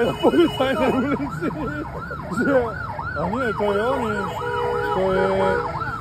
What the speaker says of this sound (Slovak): to je civil, ktorý má trúbu ako policajt a je na policajnej ulici